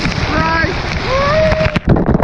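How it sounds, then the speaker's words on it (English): A waterfall at a Florida pool gives a steady rushing splash of falling water, with someone talking excitedly over it throughout. "Absolutely amazing waterfall. Here, see there's water coming down."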